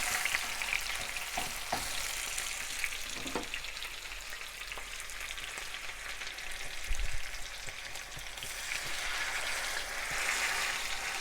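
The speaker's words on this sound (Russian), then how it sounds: "И теперь кладем наш стейк." A marinated beef steak sizzles loudly in a hot pan, a steady, close frying hiss that runs unbroken for the whole stretch with small pops and crackles and no voices.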